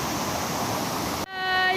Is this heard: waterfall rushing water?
yes